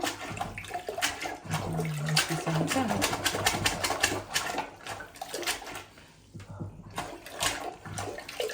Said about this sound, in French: là on va venir vider le maximum d'eau avec la brosse WC